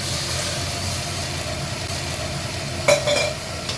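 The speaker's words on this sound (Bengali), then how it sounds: "এবারে এর মধ্যে জল দিয়ে দিচ্ছি" Water poured into a pressure cooker holding sweet pumpkin sizzling on the stove. A steady hiss of frying runs throughout, and a sharper burst of sizzling rises near the end as the water hits.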